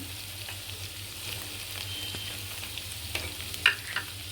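Shredded cabbage, long green chillies and capsicum stir-fry in a pan for a healthy diet dish, a soft steady sizzle with faint stirring clicks and a sharper scrape near the end, fairly quiet and without talking.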